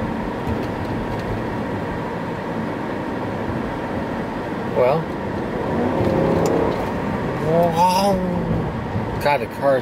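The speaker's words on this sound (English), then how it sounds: "0 to 40, just so fast it's pitiful." A 2003 Mercedes-Benz S500 W220 accelerates from rest to about 40 mph, heard from inside as a steady, rising road and engine rumble, with a person speaking over it.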